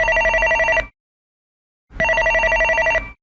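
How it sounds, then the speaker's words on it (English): A telephone bell rings twice in a quiet room, two loud, close bursts of about a second each separated by a silent pause, with no voices. "She was interrupted by the sound of the telephone."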